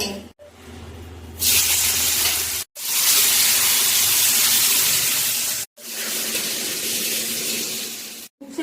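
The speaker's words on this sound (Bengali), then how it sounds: "তেল গরম হয়ে গেছে উঠতে দেবে" Bitter gourd frying in hot oil in a kadai gives a loud, close, steady sizzling hiss, broken by a few abrupt cuts into separate sustained bursts, with no talking.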